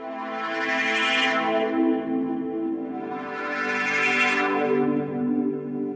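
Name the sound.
Modal Argon8 synthesizer with low pass filter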